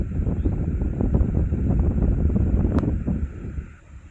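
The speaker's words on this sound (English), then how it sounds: "It's a little windy up here" Steady wind buffets the microphone at the very top of a hill, a continuous low roar that fades slightly near the end.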